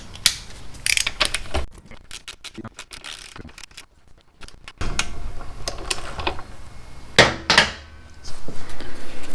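A wrench ratchets a 17 mm bolt loose on the front fork of a 1984 Honda Shadow 500, giving bursts of rapid metallic clicking with short pauses and clanks, close and fairly loud, no talking.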